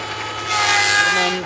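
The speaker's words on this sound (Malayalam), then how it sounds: "മരത്തിൻ്റെ കട്ട് ചെയ്ത് കണ്ട് ഷേപ്പാക്കുന്ന സ്ഥലം" A power tool cuts and shapes willow wood at a cricket bat factory in Pahalgam, Kashmir, a loud sustained grinding whir that swells midway and holds steady without speech.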